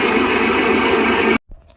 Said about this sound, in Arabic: ضفت برش البرتقال مع كوب الزيت، راح أخفقهم جيدا